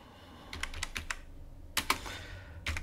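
Keys clatter on a computer keyboard while code is typed, a quick burst of close, crisp clicks, a pause, then another fast cluster and a few final taps, with no voices.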